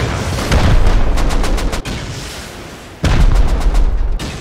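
Loud, close gunfire in the survival video game Rust, rapid bursts of shots aimed at turrets, with a brief lull before another sustained volley.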